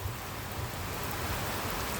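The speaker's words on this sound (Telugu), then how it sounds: "ఇప్పుడు వర్షం పడతా ఉంది" Rain falls steadily, a soft even wash of broadband patter with no distinct drops or talking, faint and continuous throughout.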